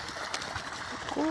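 Irrigation water runs steadily across a farm field, a continuous close wash of flowing water under a voice speaking over it.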